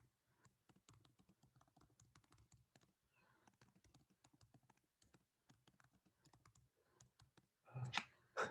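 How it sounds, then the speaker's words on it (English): Steady, quiet clicking of keys on a computer keyboard as someone types a question, with a louder rustle near the end. "I'm just now typing the question"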